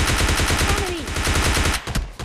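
Rapid, loud gunfire from the PUBG Lite video game, an AWM sniper match, rattles in dense repeated bursts that fill the clip before ending with a few final shots.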